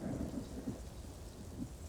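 Video game thunderstorm with low rolling thunder rumbles over steady rain, faint and continuous with no voices.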